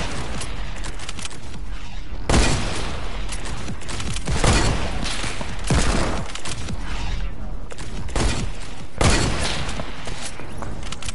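Rapid bursts of video-game gunfire, loud and close, crackle in a continuous fusillade with heavier volleys recurring every couple of seconds.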